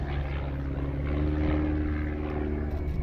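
A Pitts Special aerobatic biplane flies a display at East Kirkby Airshow, its propeller engine droning steadily and fairly loudly with a constant buzzing tone throughout.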